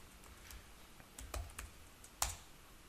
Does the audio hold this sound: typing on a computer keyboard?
yes